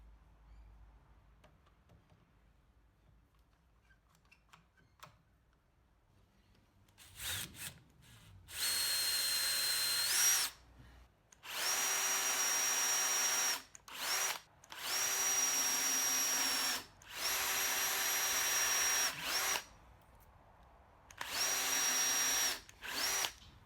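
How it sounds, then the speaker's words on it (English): A power drill drilling pilot holes in dense merbau hardwood whirs in four or five short, loud bursts separated by brief pauses, after a quiet stretch of faint background noise. "to drill pilot holes, because Merbaus are very dense timber"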